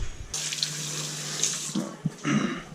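Tap water runs steadily into a sink as deer ribs are rinsed before going into a cast iron pot, with a few brief clunks and splashes of handling near the end, no talk.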